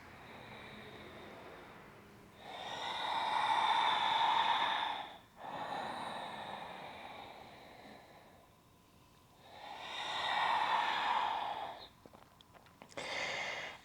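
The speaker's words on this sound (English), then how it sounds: "Complete breath in and complete breath out." Slow, deep breaths during a Kundalini yoga practice, with long inhales and exhales close to the microphone rising and falling in three broad swells separated by quiet pauses.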